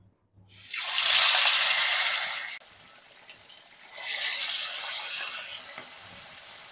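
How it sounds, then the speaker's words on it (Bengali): Koi fish sizzling in hot oil in a kadai: a loud, steady hiss that starts abruptly, cuts off briefly, then returns slightly softer and continues to the end. "তেল গরম হয়ে গেছে, এবারে মাছগুলো ভেজে নেব।"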